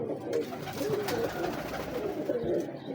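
Big-breed pigeons, called baazi maker birds, coo softly and repeatedly close by in a loft, their low warbling notes rising and falling over a light background hiss.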